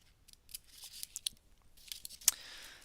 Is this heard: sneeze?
no